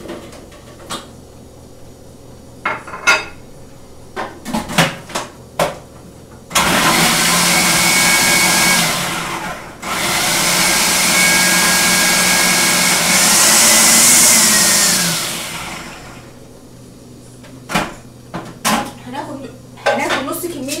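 An electric food chopper mincing onion and garlic runs as a loud, steady whirring burst of about three seconds, stops briefly, then runs again for about seven seconds, with scattered clatter and knocks before and after.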